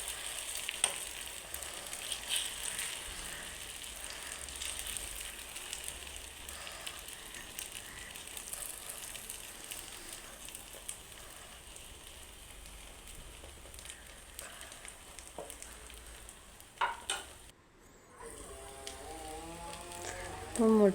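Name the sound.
egg mixture frying in a pan like an omelette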